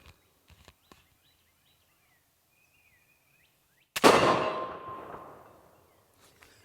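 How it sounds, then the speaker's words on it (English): A .22 short round fired at a Firebird binary explosive target, a single sharp loud report at close range followed by a broad roaring burst that decays over about two seconds, with faint birdsong and quiet outdoor ambience before it. "we just want to shoot it with a 22 short, see if it detonates"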